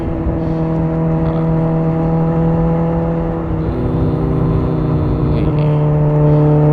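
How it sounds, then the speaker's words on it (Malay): A big bike motorcycle engine drones close and loud with a steady low hum, briefly revving partway through; no one speaks. "Korang boleh enjoy lah bunyi sound pure motor aku ni."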